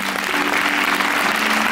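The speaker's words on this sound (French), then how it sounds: "on peut applaudir encore très très fort à la lumière, Johan," A concert audience gives loud, sustained applause for the lighting and sound crew, a dense and steady roar of clapping with a faint tonal hum beneath.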